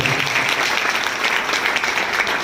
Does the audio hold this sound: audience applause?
yes